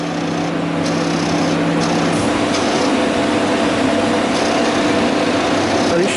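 A MIG welding machine struggling to feed wire through its drive wheels, a loud steady motor whine and hum close up, continuous throughout with a faint tone shift partway.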